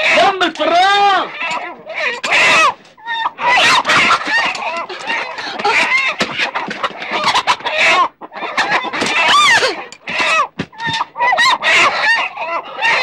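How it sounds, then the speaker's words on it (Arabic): Chickens cluck and squawk loudly and excitedly after escaping from a dropped cage, with a rooster crowing amid the flapping commotion as people talk over them. "انا كنت معايا قفص فراخ، فالقفص وقع، طارت الفراخ طرنا نجيبها"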